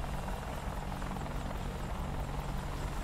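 An Apache helicopter in the DCS flight simulator game drones steadily and loudly with a continuous rotor and engine roar, unbroken and close.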